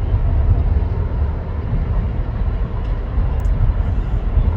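A Boeing 787 Dreamliner passes overhead as a loud, steady low roar of jet engine rumble with no break.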